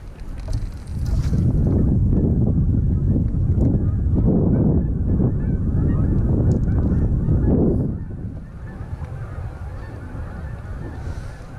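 Geese honk in a dense, continuous chorus over a steady rush of wind at a lake in November, loud for most of the stretch and then thinning out near the end.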